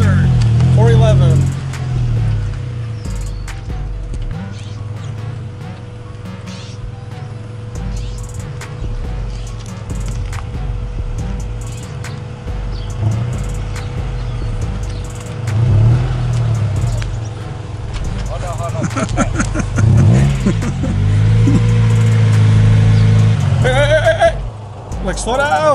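An Acura Integra in a driveway rumbles steadily, with a few rising revs later on, while people talk loudly over the engine throughout.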